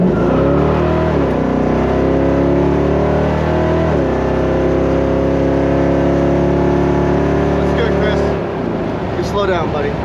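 A 1968 Camaro convertible accelerates hard, its V8 roaring loud and close with rising engine pitch through gear changes, wind and road noise underneath, easing off near the end.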